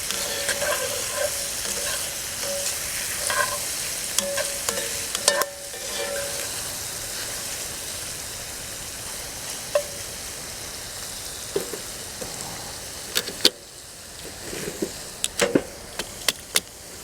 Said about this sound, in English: now we're going to saute them in this flavorful fat, butter and olive oil